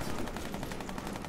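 Rapid automatic gunfire in the online shooter Warface, a steady stream of shots packed tightly together across the whole moment, loud and continuous with no voices over it.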